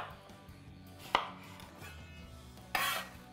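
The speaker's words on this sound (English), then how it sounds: "we're just gonna give this a little bit of a rough chop as a head start" An onion getting a rough chop with a knife on a board, two sharp chopping strikes standing out over a quiet kitchen background with faint scraping in between.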